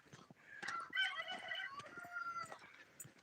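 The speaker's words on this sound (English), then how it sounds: "we got a chicken way out there." A chicken calls out in the open from somewhere distant on a rural property, its clucking and crowing notes rising in a few short bursts over faint ambient noise.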